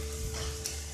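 Onions sautéing in a pan with fennel seeds for a chicken kurma, a brief steady sizzle with a faint steady hum underneath, no voices.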